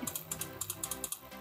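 A computer keyboard is tapped in a quick series of light, evenly spaced keypresses, close and faint. The presses are Ctrl Z shortcuts used while sculpting in Meshmixer.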